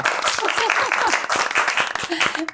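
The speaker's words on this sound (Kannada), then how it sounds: "ಬರೀ ಚಪ್ಪಾಳೆ ಈ ಕಡೆ ಸುನೀತಾ ಅವ್ರ ಟೀಮ್ ಇಂದ" Applause from one team on a TV game show, dense clapping at close range running throughout, with voices talking over it.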